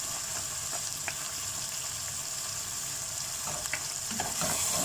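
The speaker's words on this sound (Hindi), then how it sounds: "दही को अच्छे से इसमें मिक्स करना है।" Yogurt being stirred into fried mutton nihari masala in a pan, a steady soft sizzle with occasional scraping clicks of the spoon, fairly quiet and close, with no talking.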